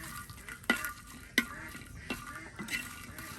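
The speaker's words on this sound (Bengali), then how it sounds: "শুকনা মরিচ, রসুন, কাঁচামরিচ সব একসাথে ভেজে নেওয়া হচ্ছে।" Dried red chilies, garlic and green chilies fry together in hot oil, a steady soft sizzle broken by several sharp stirring scrapes at a loose, irregular pace, close and moderate in level with no talking.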